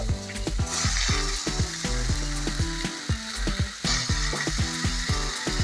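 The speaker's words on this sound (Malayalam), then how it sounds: "നമ്മൾ വഴറ്റിയതിനകത്തോട്ട് ചിക്കൻ പിറക്കിയിടണം ചിക്കൻ ഇതുപോലെ ഇങ്ങനെ പിറക്കിയിട്ട് കൊടുക്കുക" Chicken frying in sautéed onion masala for a Kerala-style chicken peralan, a steady sizzle running beneath a rhythmic, tuneful music track that stays prominent throughout.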